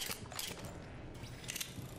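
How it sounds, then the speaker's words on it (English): Mechanical clicks and ratcheting clatter of a weapon being reloaded in Apex Legends, a quick series of metallic snaps and slides, clear and close in the game audio. "Reloading."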